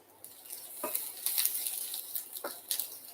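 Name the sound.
aubergine frying in oil in a pan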